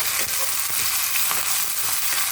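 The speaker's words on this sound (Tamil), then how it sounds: "இப்போ நம்ம தாளிச்சிட்டோம்." Tempering spices crackle and sizzle in hot oil for a banana-and-buttermilk curry, a steady faint frying hiss with small pops throughout and no talking.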